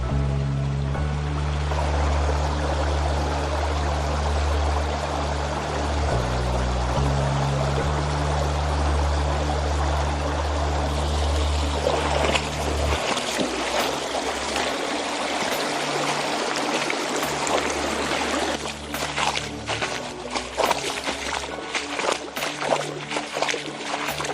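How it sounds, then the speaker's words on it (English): A small backcountry stream rushes steadily over rocks near a hidden waterfall, a close, continuous splashing wash. A low engine-like drone runs beneath it for the first half, then drops away, leaving sharper spattering water. "Right now it's just a small little trickle, but this water is just ripping down here."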